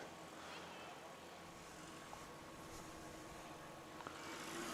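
A small STOL airplane's engine drones steadily at a distance during a takeoff at a STOL competition, under wind noise and commentary.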